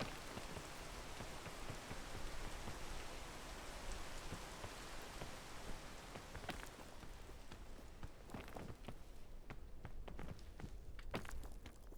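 Steady, loud rain pours down in the video game PEAK, a dense continuous hiss filling the scene alone, with a few sharper drops or footstep-like taps breaking through in the second half.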